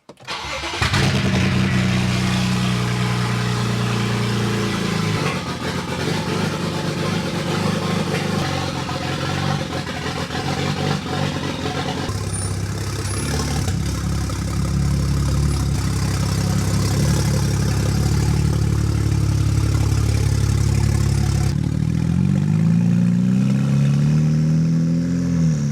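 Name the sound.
BMW 335i wagon engine started and idling in garage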